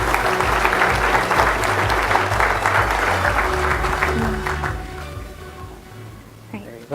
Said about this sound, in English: Let's hear it for Danielle